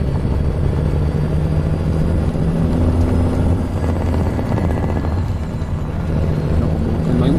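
A Kenworth T600 truck engine in American Truck Simulator drones loudly and steadily, a deep, even rumble with low tonal bands that holds almost unchanged throughout.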